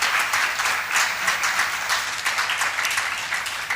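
Continuous applause from a conference audience at a medical scientific gathering's closing, many hands clapping steadily at moderate loudness with no talking over it.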